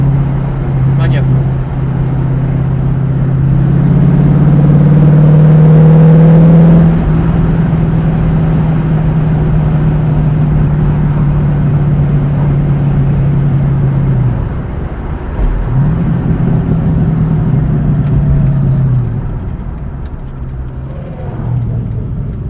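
A 1968 Ford Mustang GT 302 with an upgraded air filter and exhaust line idles and revs, its loud, low engine drone rising and holding, dipping briefly, then rising again before easing off, with an occasional voice underneath.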